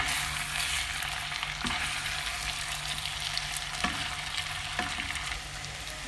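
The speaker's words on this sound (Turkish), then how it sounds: "Ve kavurduk bu şekilde bir 5-6 dakika kadar" Meat sizzles and fries steadily in a pan for a Turkish dried-bean stew, with a dense continuous crackle and a few soft stirring clacks, close and alone without talk.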